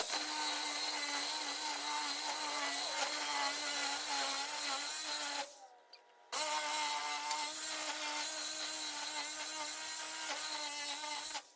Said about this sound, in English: You have to use a sawzall.